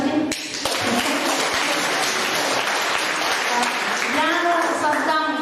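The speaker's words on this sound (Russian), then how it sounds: "Аплодисменты." A church congregation applauds at a Sunday service, a full sustained clatter of many hands, with voices talking over the clapping toward the end.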